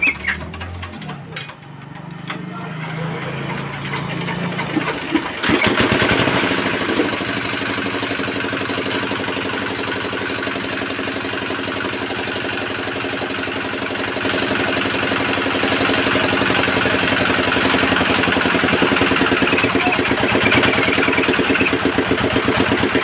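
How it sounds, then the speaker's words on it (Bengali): Honda CD motorcycle engine cranks and catches after a few seconds of faint mechanical noise, then idles steadily and loudly up close for the rest of the clip, with a rough, uneven sound. "স্টার্টটা দিলে আমরা বুঝতে পারবো ইঞ্জিনের সাউন্ডটা কি আসছে না আসছে।"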